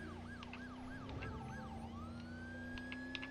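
An ambulance siren wails while driving in the video game Driver San Francisco, a rising and falling yelp over steady engine drone that settles into a long sustained tone, fairly quiet overall.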